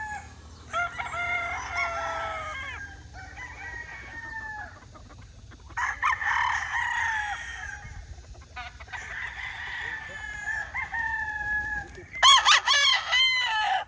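Nearby chickens cluck and squawk repeatedly, and a rooster crows loudly near the end, with farmyard background and no talking.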